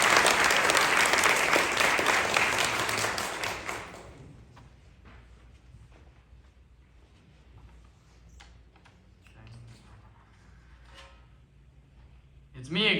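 An audience at a literary competition awards ceremony claps loudly for a youth short story winner for about four seconds, then the applause fades into quiet room shuffles and small knocks before a voice begins speaking.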